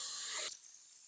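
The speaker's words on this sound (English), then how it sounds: "run water, fill it up" Tap water rushes into a watering tank for orchids, a steady close hiss that cuts off abruptly about halfway through, leaving near silence.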